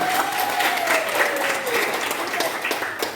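Audience applause for the third-place winner of a church creed memorization contest, steady clapping throughout with a faint tone and murmuring voices underneath.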